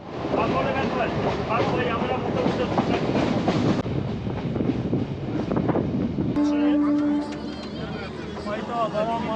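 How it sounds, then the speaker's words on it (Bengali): A Sealdah–Namkhana local train rumbles alongside on the line near Sonarpur, its wheels clattering and carriages rattling loudly, while a voice speaks over the noise and the din later thins to a quieter hum. "আমার পাশে যে ট্রেনটা এটা হচ্ছে সাতটা পনেরো শিয়ালদা নামখানা লোকাল"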